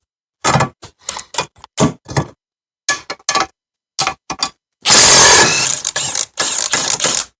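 Milwaukee mid-torque impact wrench spinning 18 mm bolts off the rear subframe of a Jeep Patriot/Compass/Caliber: a series of short, loud rattling bursts, then a longer sustained hammering run and a few more bursts, close up.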